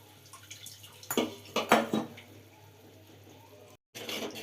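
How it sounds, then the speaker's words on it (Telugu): Tamarind juice is poured into bitter gourd curry in a pot, a few short splashy pours and drips close by, separated by quiet gaps. "ఇప్పుడు దీంట్లో చింతపండు రసం పోసుకోండి"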